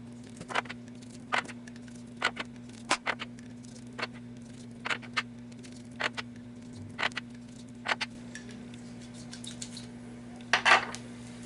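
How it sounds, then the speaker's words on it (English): A hand chamfering tool scrapes the inside mouths of brass .223 rifle cases in faint, close, evenly spaced short clicks and scrapes over a low steady hum, repeating roughly every half second with no talking. "give a light chamfer on the inside of the case mouth"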